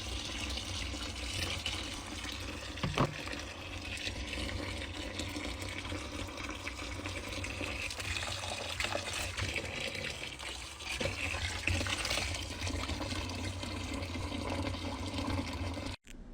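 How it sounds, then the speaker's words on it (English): Hot water running hard from a tap while an oven tray is cleaned, a loud steady gush that continues without a break before stopping abruptly at the end, with no talk. "More hot water."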